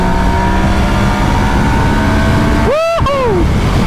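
Yamaha Niken GT three-wheeled motorcycle accelerating hard, a loud steady engine roar under heavy wind buffeting, with a brief rising whine near the end.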